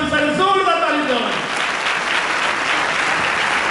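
Loud applause from a crowd at a pastor's blessing meeting bursts in, with a voice trailing off at the start, then steady dense clapping for the rest of the few seconds.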